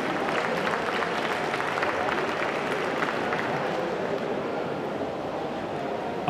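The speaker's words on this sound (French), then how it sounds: "un grand applaudissement pour tous les autres membres du jury" Applause for jury members at a Swiss championship swimming event in Geneva, a dense steady wash of clapping from a crowd in an echoing hall, sustained throughout with faint background murmur.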